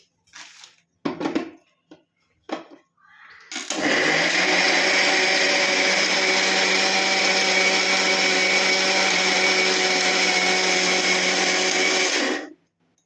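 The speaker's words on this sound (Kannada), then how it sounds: "ಇವಾಗ ರುಬ್ಬೋಣ ಬನ್ನಿ" A mixer grinder grinding soaked lentils with water, running as a loud, steady whirring drone for about nine seconds before cutting off, preceded by a few brief knocks and clatters.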